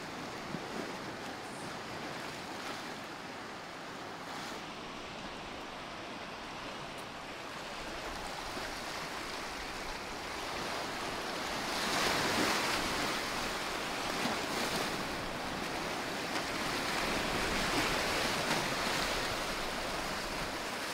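Ocean waves on the Portuguese coast, a continuous wash of surf with a louder breaking surge partway through, steady and fairly distant, with light wind and no voices.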